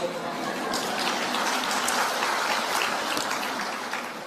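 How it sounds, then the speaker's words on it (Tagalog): Audience applause in a church service, a dense steady clatter of many hands clapping that holds at an even level throughout. "Dahil sa palakpak nyo,"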